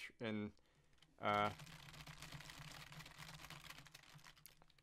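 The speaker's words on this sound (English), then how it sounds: "I'm sure you are all thrilled to hear how loud my keyboard is." Loud typing on a computer keyboard, a dense and steady run of rapid clicks that follows two short spoken words and goes on alone for the rest of the clip.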